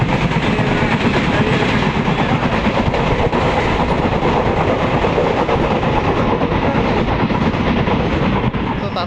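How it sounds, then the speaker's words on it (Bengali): A passenger train runs at high speed, heard from inside as a loud, unbroken rumble with rapid wheel clatter throughout and faint voices beneath. "প্রচুর স্পিডে ট্রেন চলে।"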